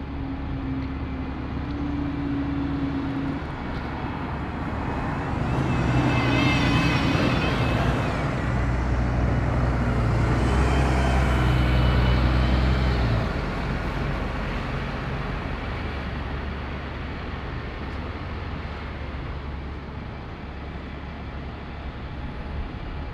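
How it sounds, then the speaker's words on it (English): A bus engine rumbles into Stockton-on-Tees bus station, a low throbbing drone that swells loud and close mid-way with a hiss and whine, then eases off into a quieter idling background. "There's a couple of more new ones piling into the bus station here at Stockton-on-Tees."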